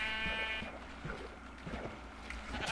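A sheep in the Minecraft Beta video game bleats once near the start with a wavering, tonal call, followed by soft game ambience and light movement sounds.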